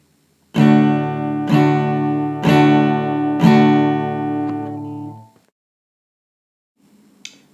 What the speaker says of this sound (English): If you were to strum a quarter note rhythm like this, you would do it all with down strums